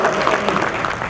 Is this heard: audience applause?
yes